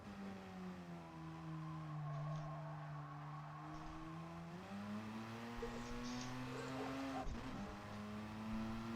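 Race car engine held in second gear through a section of a racing video game, a steady loud drone with smoothly rising and falling pitch, a brief rough burst near the end, no talking.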